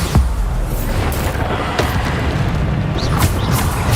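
A Bombarda blast spell in Hogwarts Legacy, with booming impacts and rumbling crashes in a dense, noisy combat mix, several heavy thuds landing over a few seconds.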